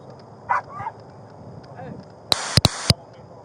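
A dog in a car barks several times in quick succession, loud and close, after a quieter stretch with faint whimpering sounds.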